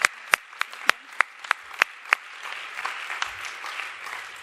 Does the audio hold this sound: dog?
no